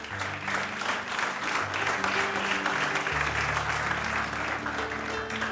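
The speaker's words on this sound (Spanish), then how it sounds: "Dele un aplauso a Dios" A church congregation claps steadily and loudly in unison, sustained applause with a low musical tone underneath.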